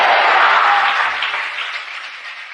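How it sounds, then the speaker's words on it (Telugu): A church congregation applauds loudly in a dense, continuous burst of many hands clapping, strongest at the start and easing slightly toward the end, with no voices on top. "చప్పట్లు కొట్టండి గట్టిగా"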